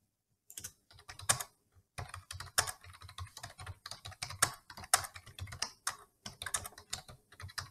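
Fast typing on a computer keyboard while building a website, heard as a close, quiet clatter of irregular key clicks in quick bursts with short pauses, no voices.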